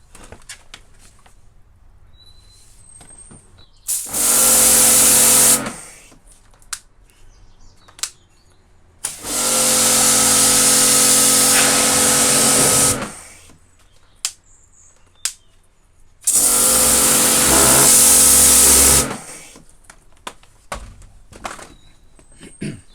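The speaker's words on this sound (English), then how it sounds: "to turn the pressure washer on and do a sweep forward" A Karcher K7 Premium Full Control pressure washer sprays loudly in three long bursts of a few seconds each, separated by quieter stretches with scattered small clicks and taps.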